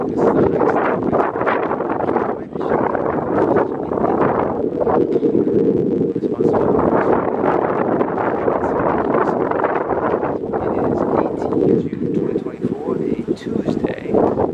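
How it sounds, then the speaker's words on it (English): Strong wind buffets the microphone at a double-A baseball field in Aruba on a Tuesday night, a loud continuous roar with gusts rising and falling beneath people talking. "it's windy as hell, you've been warned"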